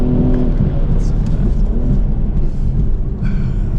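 A 2025 BMW Z4 M40i's engine, with a six-speed manual and 7,000 RPM redline, drones and revs in a loud, continuous rumble on a track, heard from inside the cabin with a voice talking over it.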